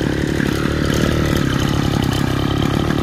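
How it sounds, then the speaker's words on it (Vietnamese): A Mitsubishi TL33 grass cutter engine runs steadily nearby, a loud, fast, buzzing two-stroke putter with a slight rattle and no one talking. "bây giờ nghe mời cả nhà nghe tiếng máy nổ nha"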